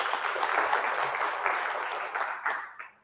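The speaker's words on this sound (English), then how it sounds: "Let's give her a round of applause." Workshop audience in Mamelodi giving a round of applause, a soft, fairly distant patter of many hands clapping for about three seconds before fading out.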